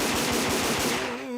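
Cartoon show pistols loaded with blanks fire a rapid burst of shots at a rodeo, loud and close, with the last report ringing out into a fading tone.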